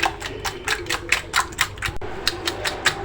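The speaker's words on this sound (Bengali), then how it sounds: "ডিমটা ফেটতে ফেটতে কিন্তু সুন্দর হয়ে গেছে, খুব স্মুথ হয়েছে।" Eggs for a pudding are beaten in a bowl, producing quick, evenly spaced clinking strokes of a whisk or fork against the side, about four per second, close and steady.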